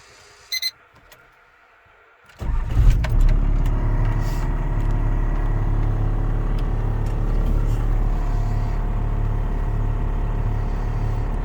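A first-generation Cummins diesel pickup sets off on a test drive: a couple of brief electronic beeps in near silence, then the engine rumble kicks in and settles into a steady, droning diesel hum that continues throughout.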